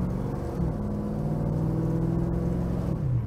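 A 1956 Chevrolet Bel Air engine accelerating, a steady low exhaust drone climbing gradually in pitch, loud and close from inside the car, with no talk over it.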